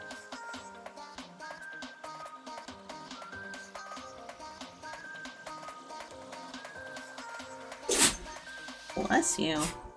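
A single sudden sneeze bursts out near the end over a quiet background of music or system sounds, followed shortly by another short burst of noise.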